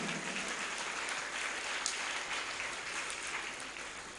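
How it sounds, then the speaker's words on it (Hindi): Audience applause for temple managers during a religious discourse: a full, even roll of many hands clapping that holds steady for about four seconds and tapers slightly at the end, with no voices over it. "एक बार इनके लिए जोरदार ताली बजाएं।"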